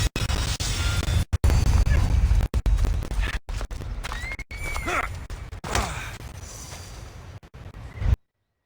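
Horses in Assassin's Creed Odyssey, loud hoofbeats clattering and several shrill neighs and whinnies rising over heavy thudding, close and busy, ending abruptly.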